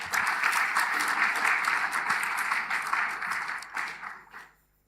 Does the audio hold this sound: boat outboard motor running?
no